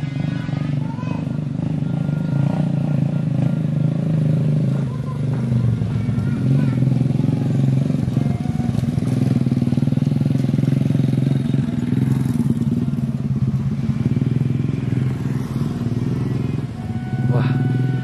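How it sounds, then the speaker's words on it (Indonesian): Motorcycles rumble steadily nearby, engines droning and revving with some clatter, a continuous low roar throughout. "Wah, ada juga nih motor-motor nih."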